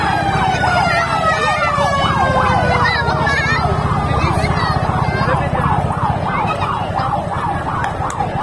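A fire truck arrives after a restaurant fire with its siren blaring, a loud, continuous rising-and-falling wail that repeats steadily over a low traffic rumble.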